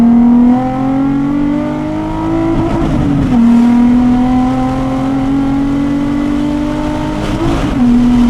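A Nissan 350Z engine revs hard under acceleration, loud and close, with a droning tone that climbs in pitch. It drops briefly at two gear shifts, then climbs again.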